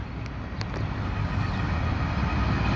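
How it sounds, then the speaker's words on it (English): A BNSF manifest freight train approaches at the Rosedale Highway bridge, its broad low rumble building steadily and staying close and continuous, with a few brief high clicks early on. "BNSF freight train coming our way."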